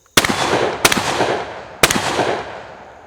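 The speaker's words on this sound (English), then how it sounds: "This is a triple barrel 12 gauge shotgun" A Chiappa Charles Daly Honcho Triple Threat triple-barrel 12 gauge break-open shotgun, loaded with four-shot game loads, fires three loud, close blasts in quick succession, each leaving a short ringing tail.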